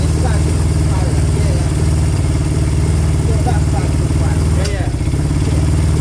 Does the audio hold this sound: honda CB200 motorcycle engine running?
yes